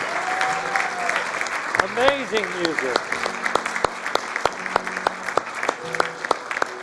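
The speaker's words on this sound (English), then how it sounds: "Please stand up and applaud the incredible music." Sustained applause from a church congregation, dense steady clapping throughout, with a voice speaking briefly over it near the start.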